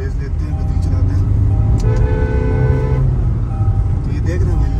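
Kia Carens 2022 MPV engine revving on the move, a steady loud drone with rising tonal whine through the middle, cabin road noise throughout.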